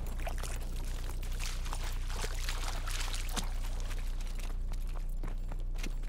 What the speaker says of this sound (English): It's water. Huh? River must be close.